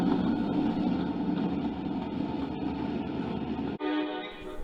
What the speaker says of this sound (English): An FP7 blats its horn